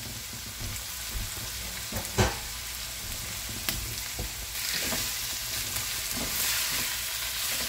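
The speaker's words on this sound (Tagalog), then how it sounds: "Gisa lang natin to." Pork sautéing in a hot pan, a steady broadband sizzle throughout with a few sharp clinks and scrapes of stirring, growing slightly denser toward the end; no voices.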